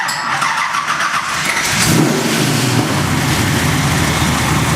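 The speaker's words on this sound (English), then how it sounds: "Why don't we start this beautiful beast up?" A 1969 Camaro muscle car engine cranks and catches, then settles into a loud, steady rumble that carries on close by with no talking.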